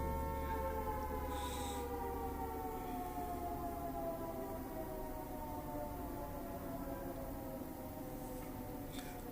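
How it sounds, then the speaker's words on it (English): A long wailing siren holds steady, its rising and falling tones continuous throughout, moderately distant under a constant background rumble. "siren is ringing"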